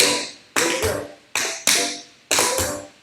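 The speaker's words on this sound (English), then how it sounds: "try to make these sounds as clear as you can on this 3-tap riff" Sharp taps from tap shoes, five bright clicks in quick pairs with a steady rhythm, close and crisp with no voices.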